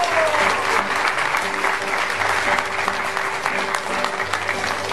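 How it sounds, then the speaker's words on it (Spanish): Dense, steady applause from a crowd honoring a mariachi band at a Pedro Infante tribute, continuous and fairly loud throughout with a faint underlying tone and scattered voices. "Vamos, un aplauso para el mariachi de tu amigo"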